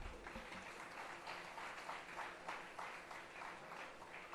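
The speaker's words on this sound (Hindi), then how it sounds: "तालियां बजती रहनी चाहिए।" Faint, distant-sounding applause from an audience at a ceremony for distributing assistive aids, as a guest is welcomed on stage; a soft, continuous patter of many hands without pauses.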